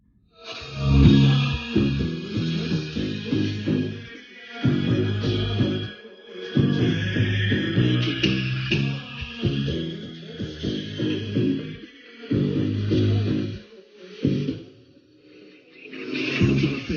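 Music plays through a Tronsmart T7 Bluetooth speaker, with a punchy beat and heavy bass in repeated phrases separated by brief gaps, heard alone and fairly loud.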